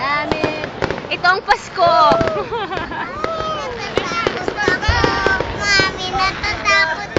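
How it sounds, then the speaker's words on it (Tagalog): Fireworks bursting during a lantern parade at the UP Centennial, a steady crackle and pop running under excited crowd chatter and a voice throughout. "Fireworks lang yan."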